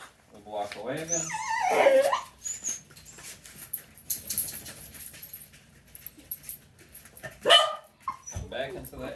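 A dog in reactivity training barks in a few sharp, close bursts, with whimpering and panting between them and a person talking over parts of it.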